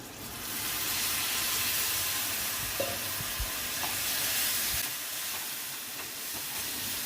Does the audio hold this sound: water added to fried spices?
yes